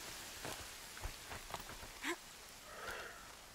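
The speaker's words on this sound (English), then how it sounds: "And it's raining." Steady rain hissing throughout a Horizon Zero Dawn game scene, with a few louder drip or splash accents standing out against the continuous wash.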